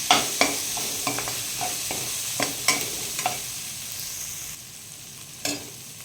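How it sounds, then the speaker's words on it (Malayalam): Spices being stirred into mushroom gravy in a pan, with a spoon scraping in a series of sharp, irregular strokes over a low background sizzle, close and fairly loud, with no voices. "നമുക്കിതൊന്ന് മിക്സാക്കി കൊടുക്കാം"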